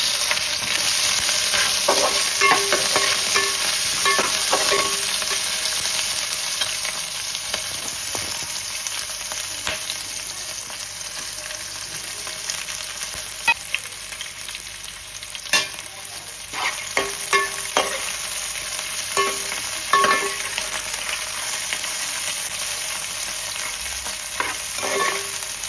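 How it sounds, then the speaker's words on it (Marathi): Onion and green chillies frying in hot oil after cloves, pepper and cinnamon, a steady close sizzle with occasional stirring scrapes and taps, no talk. "याच्यामध्ये मी टाकते कांदा आणि हिरवी मिरची"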